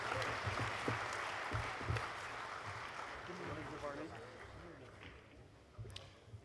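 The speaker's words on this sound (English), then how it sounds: "Please join me in welcoming the Miami University men's basketball teams to the Ohio Basketball Hall of Fame with a big round of applause" A hall full of people at a basketball hall of fame induction claps steadily for a university men's team, the sustained applause loud at first and easing slightly over several seconds, with scattered cheers.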